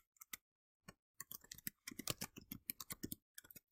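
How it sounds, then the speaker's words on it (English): Keys clatter on a computer keyboard in quick irregular bursts, a few isolated taps first and then a dense run of typing, close and fairly quiet, with no voices. "I'm going to hit tab and type last year"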